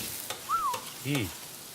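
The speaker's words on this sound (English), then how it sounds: "Look at that sizzle." A hot Jersey Mike's sub sizzles on a restaurant grill with a steady frying hiss and light scraping stir sounds, brief and close.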